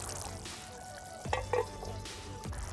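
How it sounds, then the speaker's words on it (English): Castor oil in a pot boils and sizzles softly at close range, with a steady bubbling hiss and a few small pops. "allow it to continue boiling until the oil completely rises to the top"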